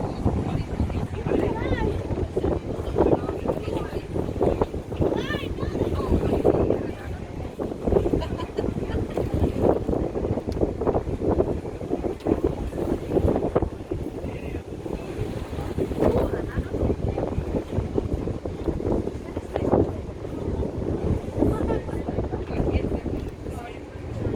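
Strong wind buffets the microphone on a boat in Zürich, a constant rumbling roar with gusts, while voices talk intermittently in Turkish beneath it.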